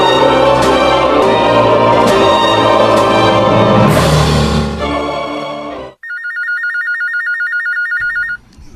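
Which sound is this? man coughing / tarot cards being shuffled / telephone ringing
telephone ringing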